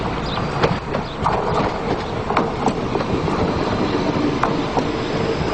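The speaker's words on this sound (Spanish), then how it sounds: "los nuevos Civia, que ya ruedan por las cercanías de las capitales españolas" A Renfe Civia commuter train runs on a Spanish suburban line: a continuous loud rumble with rhythmic wheel clicks and occasional faint squeals, no voices.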